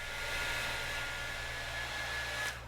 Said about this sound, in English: So I'm about to use the hairdryer